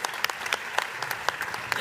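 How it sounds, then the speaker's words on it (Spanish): Audience applause at a contact center tech expo, a burst of many hands clapping with sharp individual claps standing out, fairly close and lively for under two seconds. "Un aplauso."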